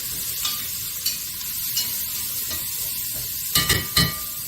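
Diced onion sizzles in a pan, a steady frying hiss with occasional stirring scrapes and a few louder clatters near the end.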